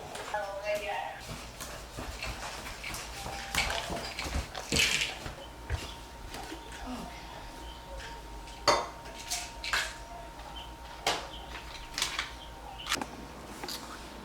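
Dishes and cutlery clatter in a home kitchen sink area, with scattered clinks and knocks of varying loudness spread through the stretch, while a person talks intermittently in the background.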